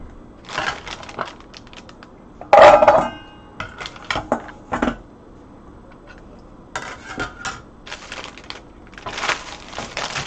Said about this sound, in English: And let's bench scraper it.